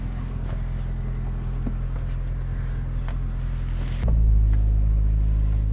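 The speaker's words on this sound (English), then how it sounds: "Let's go ahead and get in the car and take her for a drive." A turbocharged Honda Civic drives along with a steady low engine rumble heard from inside the cabin, swelling noticeably louder near the end as it accelerates.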